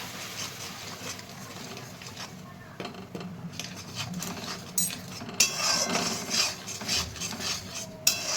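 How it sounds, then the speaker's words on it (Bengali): Spoon stirring a spice paste with Kashmiri chili powder in a pan while making egg curry (dimer kosha), giving a steady scraping and rubbing sound with a few clinks that grows busier toward the end, heard close with no talk. "আর একটুখানি কাশ্মীরি লঙ্কার গুঁড়ো, দেখো দিয়ে এবার ভালো করে নাড়াবো"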